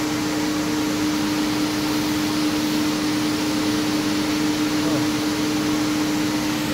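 A large overhead fan running inside a car show building at Streetside Classics, a steady broadband whooshing drone with a constant low hum, loud and unchanging, with no talking.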